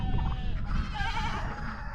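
Chickens and a rooster in a farm pen, giving a close, continuous clucking and bleat-like calling over low barnyard rumble, with no talking.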